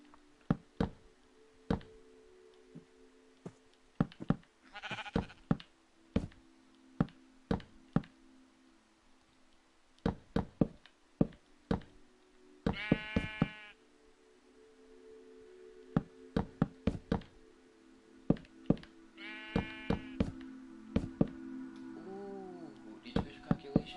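Sheep in the Minecraft video game bleat in a few short, wavering calls spread apart, with sharp block-placing clicks and taps scattered throughout over quiet game ambience.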